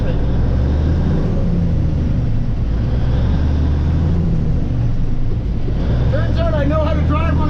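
A 1975 cab-over heavy rescue truck rumbles steadily as it is driven, a loud, close engine drone with a voice over it near the end.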